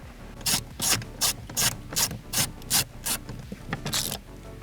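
A ratchet wrench loosens an 8mm bolt inside a car interior, with a close, crisp clicking that repeats in regular bursts of about two per second.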